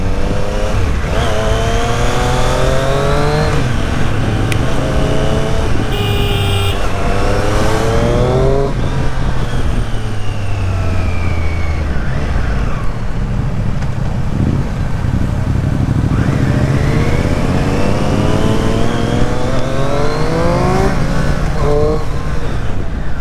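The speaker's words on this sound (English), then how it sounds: "Whenever we rev the bike, we get to hear that refinement in that engine." Triumph Street Triple RS motorcycle engine revving repeatedly, loud and close, with rising and falling pitch sweeps across the whole stretch and no talk over it.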